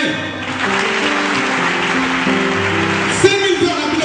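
A church vigil congregation breaks into applause, a dense wash of clapping running the whole stretch, mixed with a sustained voice or musical tone and a few louder accents near the end.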